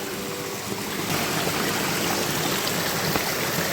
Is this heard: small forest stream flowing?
yes